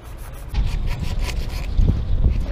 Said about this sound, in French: on va nettoyer un petit peu, on va dégraisser